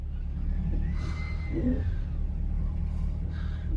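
A 2020 Corvette reverses very slowly, its engine a steady low rumble with a soft whir rising briefly, close and continuous throughout.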